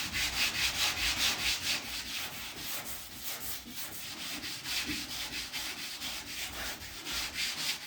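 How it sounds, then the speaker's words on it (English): Steady rhythmic rasping of a slotted sanding block scrubbed back and forth over a car body panel, close up and continuous with no voices. "when you're sanding, you'll feel the body change"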